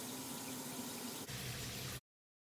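Shower water runs in a steady, dense hiss that shifts slightly partway through and then cuts off abruptly, with no voices.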